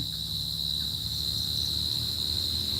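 Steady, continuous cricket chirping at dusk, a high thin trill holding constant throughout with a faint low hum beneath; no voices.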